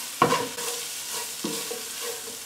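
Leftover flour stirred into a pan of beef juices for a steak and mushroom pie, a gentle steady sizzle with a couple of sharp spoon scrapes against the pan, close and alone.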